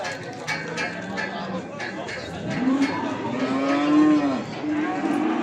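Calves at a livestock market in Beylagan low out in long, rising and falling moos, one drawn-out call sweeping upward and back down, over a steady din of market chatter and people talking nearby.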